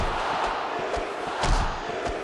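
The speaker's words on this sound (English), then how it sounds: "You can hear this crowd right now, not exactly on the side of Blaziken." Loud, continuous crowd roar at a wrestling match, with cheering and shouting swelling in waves and punctuated by a few sharp thuds, no talk heard over it.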